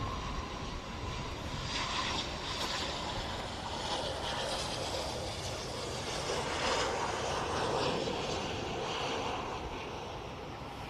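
An RSV Eurofighter Typhoon jet with a special tail arriving at the Royal International Air Tattoo air show, heard as a steady broadband engine roar that stays loud and constant throughout, with no talk over it.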